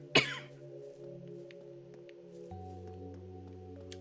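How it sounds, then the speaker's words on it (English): One sharp, close cough bursts out near the start, then fades under soft, sustained video-game music tones that carry on alone. "Sorry guys, my coughing."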